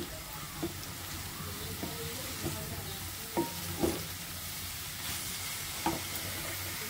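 A winter vegetable stir-fry with egg and potato frying in a pan: a steady, close sizzle with occasional soft scrapes and stirring taps of a spatula, no voices.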